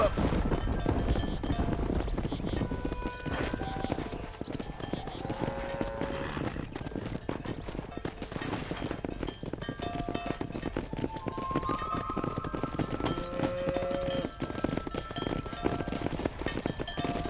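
Horse hooves clip-clopping at a gallop in Red Dead Redemption, a steady rapid rhythm with wind noise and game music, under a voice.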